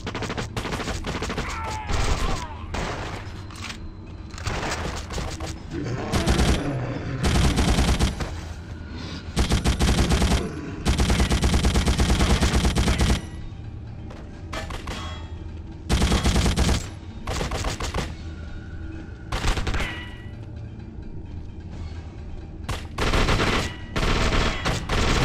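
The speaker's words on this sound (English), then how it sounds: "Who's shooting?" Gunfire in the video game The Suffering: Ties That Bind comes in loud, dense bursts and rapid volleys, with short gaps between the repeated shots.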